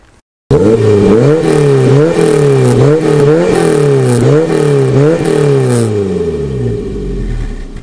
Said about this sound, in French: Je vous propose tout simplement d'écouter la sonorité de ce petit moteur XU.